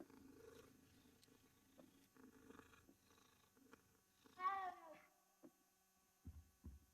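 Cat purring in the Hogwarts Legacy video game, a faint low rumbling purr running through the opening seconds, followed by a brief clear meow-like cry midway and a few soft thumps near the end.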